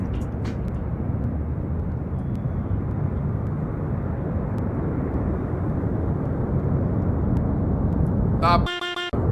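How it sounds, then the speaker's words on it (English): A jet aircraft climbing almost vertically gives a continuous, fairly loud broadband roar that holds steady, then cuts off abruptly near the end as a brief horn-like tonal burst and other sounds break in. "This jet flying almost vertically."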